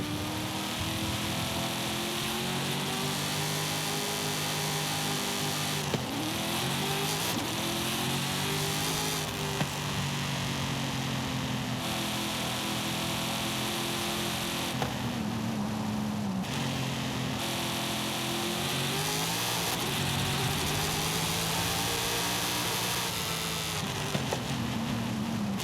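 A roaring car engine in Forza Horizon 5, a roll-race build with a carbon-fiber front end and 800 lb-ft of torque, held loud and steady at launch for the whole stretch, its pitch dipping and climbing every few seconds.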